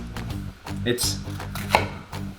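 A knife chops steadily on a cutting board in quick, rhythmic strokes with brief pauses, close and clear, over faint background music.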